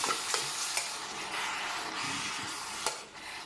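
A cooking pot is stirred after water is added, with a loud continuous sizzling hiss and a few sharp scraping clinks of the utensil against the pot.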